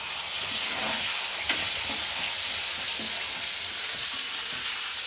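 Steady sizzling and crackling of curry leaves and spices tempering in hot oil, with a few small pops and stirring scrapes, close and continuous with no talking.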